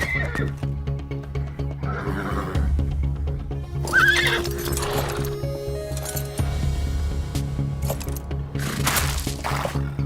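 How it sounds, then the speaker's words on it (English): A cartoon pantomime horse at a race gate whinnies loudly and its hooves clip-clop, with rapid hoof taps and several shrill neighs over a low background hum. "in Gate 6, we have obviously a pantomime horse"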